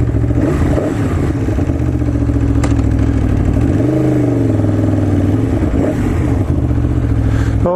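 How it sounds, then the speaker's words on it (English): A 2014 Aprilia RSV4 APRC V4 motorcycle engine runs loud and close, a deep steady rumble with a brief rise in pitch around the middle, like a light blip of the throttle, and no talking. "these little GoPro mics, they really just don't do justice to how good this bike sounds"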